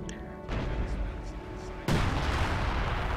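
An artillery gun fires in the video game Company of Heroes 2, with one loud boom midway that shifts into a denser roar of battle noise over the continuous rumble of combat.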